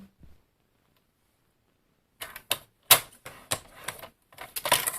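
A folding blade scores fold lines along the edges of tracing paper, a run of sharp ticking scrapes starting after a quiet pause, close and crisp, with no talking over them.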